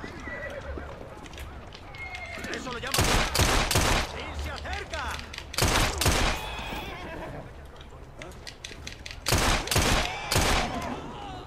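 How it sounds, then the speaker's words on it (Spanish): Gunfire in the video game Assassin's Creed Syndicate comes in three sharp bursts of rapid shots, loud and close, set among game sounds of horses whinnying and hooves clopping. "Me están disparando."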